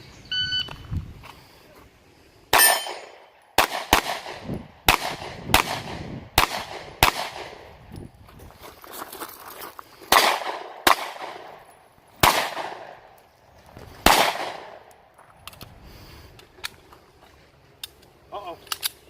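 Pistol shots ring out on an IDPA shooting stage, around a dozen sharp cracks in irregular bursts with short pauses between strings of fire, loud and close, with faint range voices in the background.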